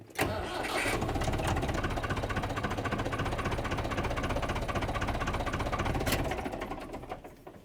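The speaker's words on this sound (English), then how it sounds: "so I'm just going to back up the tractor a little bit." A tractor engine runs steadily as the tractor backs up on a snowy farm, a sharp start followed by an even, rhythmic mid-pitched chug that fades and cuts off near the end.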